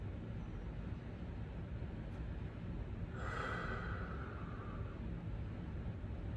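One long, deep breath drawn during a seated toe-reaching stretch in an exercise lesson. It is soft and airy, rising midway over a low steady background hum.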